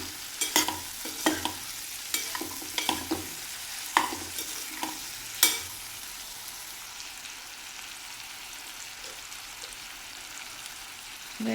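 Pointed gourd sabzi being stirred in a pan, with baking soda added: a run of sharp spoon scrapes and clacks over a low sizzle, then the stirring stops and only a quiet frying hiss remains.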